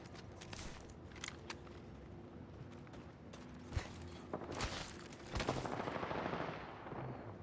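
Gunfire in a ranked battle-royale video game, with sharp shots and bursts scattered through the clip over steady in-game noise. A few louder cracks near the end stand out.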